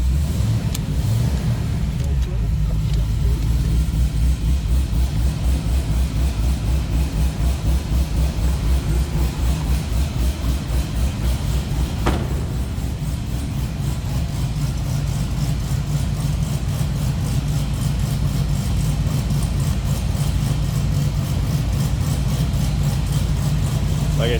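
A 2012 Chevrolet Corvette Grand Sport 3LT coupe with a 6.2 liter supercharged 620 horsepower V8 idles with a deep, steady, pulsing rumble, close and loud, continuous from start to finish.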